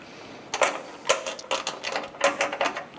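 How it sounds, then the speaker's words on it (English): Tightening tool drawing a nutsert into a 2011-2018 Ram 1500 truck tailgate, heard as a handful of close, sharp ratcheting clicks and mechanical bursts at uneven intervals, with no talking. "tighten down this here and see if we can get that nutsert"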